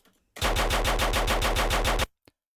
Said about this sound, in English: chain gun bass instead of machine gun bass